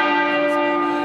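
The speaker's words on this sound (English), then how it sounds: "Westminster Abbey's tenor bell chiming once a minute for 96 minutes, marking each year of Queen Elizabeth II's life" Westminster Abbey's tenor bell tolls for Queen Elizabeth II, a single loud, sustained church-bell strike ringing steadily on its own with a long, even hum.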